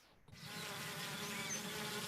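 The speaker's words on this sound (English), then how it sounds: "Bees are called social insects because they live and work together as a community." Bees buzzing steadily in a dense swarm, a continuous close hum that swells in after a brief quiet start and holds without pause.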